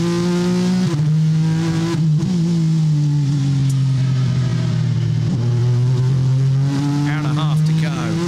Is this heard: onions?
no